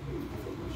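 A cross-bred racing pigeon coos in a loft in Islamabad, giving a short, soft, low murmur against steady background noise.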